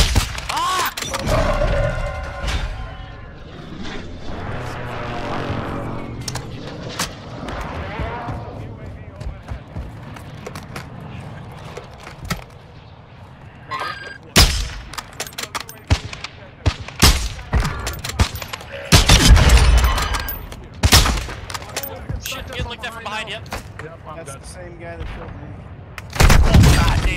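Gunfire in the video game Warzone 2.0, with sharp, loud shot cracks and booms scattered irregularly among in-game rumble and effects, while players talk over it.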